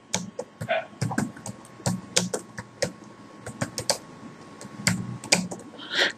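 Keys clatter on a computer keyboard as a query is typed into a Google search, in irregular quick bursts of close, crisp taps with short pauses and no voice.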